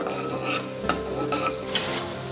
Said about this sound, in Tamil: பூண்டோட பச்சை வாசனை போகிற வரைக்கும் நம்ம வந்து வதக்கிக்கலாம்.